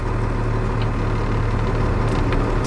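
A large range fire truck engine idles with a steady low rumble and hum, running continuously and close by.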